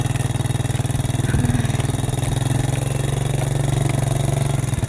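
A motorcycle ridden along a road drones steadily and loudly throughout, its engine note holding a constant pulsing rhythm with slight rises, no talking over it.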